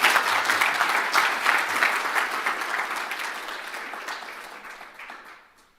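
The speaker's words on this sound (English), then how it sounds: "So would you, with your enthusiastic applause, welcome to the dais, Minister Taro Kono" An audience gives dense, enthusiastic applause welcoming Minister Taro Kono to the dais at a Washington event, loud at first, then gradually tapering and fading out to silence.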